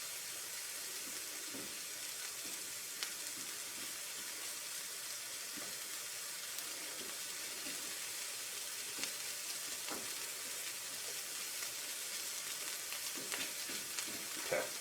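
Mushrooms frying in a pan with a steady, even sizzle and crackle throughout, close and continuous, with a few faint utensil taps and no talking.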